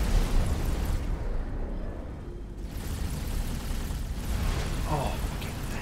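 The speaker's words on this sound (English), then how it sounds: "Explosion imminent. Including the one we're on." Spaceship explosions from the space game X4 Foundations rumble and boom under a loud, continuous roar of combat, while a synthetic voice and someone talk over them.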